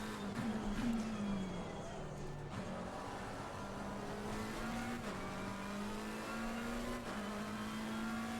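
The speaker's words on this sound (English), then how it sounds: "Traction control on this car sounds like a firework display." A GT3 race car in the RaceRoom racing game drones along at a steady engine pitch while its traction control cuts in with abrupt crackling stutters every couple of seconds, and someone talks over it.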